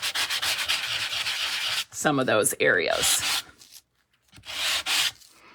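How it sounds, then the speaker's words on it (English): Brisk scratchy strokes of sandpaper rubbing over two-tone cardstock in quick bursts, close up, with a short spoken remark in the middle. "double the interest by sanding"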